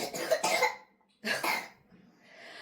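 A small boy with a two-day cold and cough gives two harsh, wet coughing fits close to the mic, with a short quiet gap between them and faint breathing after.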